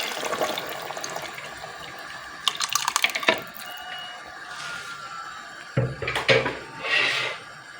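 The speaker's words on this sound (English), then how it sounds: "So I'll add more water to it." Water poured from a tap or jug into a pot of groundnut soup: a flowing, splashing stream, then brief gurgles and a couple of short pours, fairly close and without speech.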